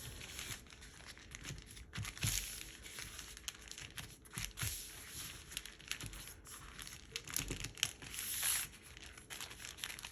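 A plastic bag being folded to make plastic yarn for crochet gives off steady crinkling and rustling for the whole stretch, with several louder crackles and tearing-like bursts along the way. No one speaks.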